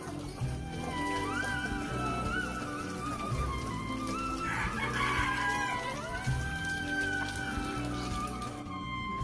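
A rooster crows repeatedly at a crowded shrine fair where devotees donate goats, cattle, buffalo and roosters, its calls rising over a dense, constant crowd din with no clear speech.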